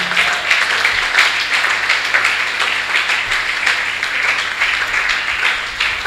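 A church congregation claps and applauds continuously in a steady, dense roar of hands that holds an even loudness throughout, with no voices standing out.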